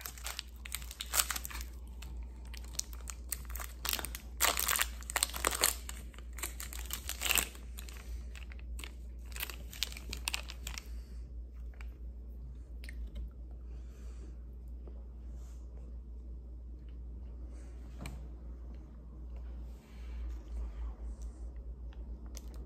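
Chocolate bar being bitten and chewed close up, with crinkly wrapper-like crunches and crisp bites bunched in the first ten seconds, then quieter, sparser chewing over a steady low hum.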